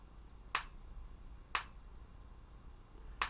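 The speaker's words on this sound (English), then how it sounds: "And there's the second clap here." Stereo clap sample in a song mix, three crisp, isolated clap hits with the first two about a second apart and the third after a longer gap, each sharp and bright over a quiet background, with no talking.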